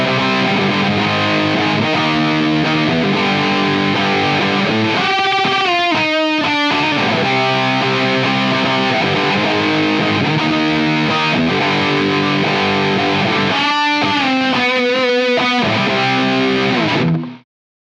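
Electric guitar played through a Boss DS-2 style distortion pedal, a continuous run of loud, saturated chords and riffs with a few quick bursts of higher picked notes, ringing out alone before cutting off at the end.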